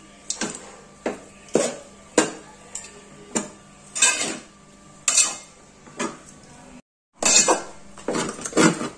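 A spoon scrapes and clinks against a pan while coconut powder is mixed into uggani, a Nandyal-style Rayalaseema dish, with repeated close, rhythmic strokes and a brief pause near the end; no talking.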